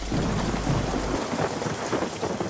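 Continuous heavy rain pours down with a deep thunder rumble rolling through the first half, then a steady hiss of rain and drops striking surfaces, loud and close, with no voices.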